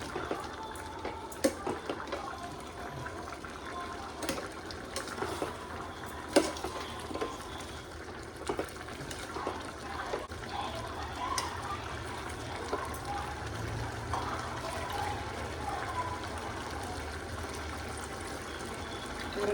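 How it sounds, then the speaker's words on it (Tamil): A thin, steady trickle of water pours into a pot for mushroom biryani for a long stretch, with scattered small clinks and knocks over a faint background hum. "இது தண்ணி இப்போ தான் ஊற்றுறேன்."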